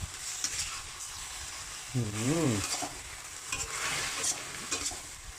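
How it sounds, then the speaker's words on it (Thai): Eggplant stir-fried in a hot pan with oil, a continuous sizzle with scraping stir strokes, close and moderately loud; a brief higher tonal sound rises and falls midway. "เป็นไฟปุ๊บแล้วก็รีบผัดทุกๆเลย พยายามให้โดนความร้อนแบบพร้อมๆกันนะ่ะ"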